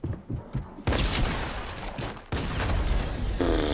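Gunfire in the Fortnite video game: loud, dense volleys of rapid shots, a short burst and then two long sustained barrages with little pause between them.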